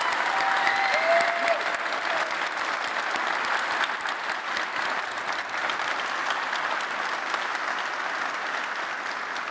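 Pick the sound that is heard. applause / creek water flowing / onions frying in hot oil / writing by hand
applause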